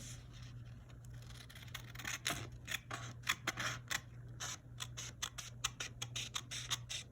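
Scissors snip along the sides of a printed 2023 budget binder page, a close run of sharp, irregular cuts that quicken toward the end over a steady low hum.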